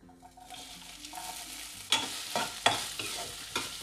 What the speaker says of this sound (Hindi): तो यहाँ पे तेल हो गया गरम अब इसमें जाएंगी प्याज